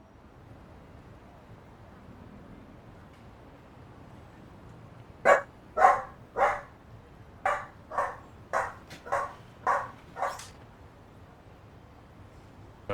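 A dog let outside barks about nine times in a steady spaced series, loud and slightly distant, after several seconds of quiet background hiss.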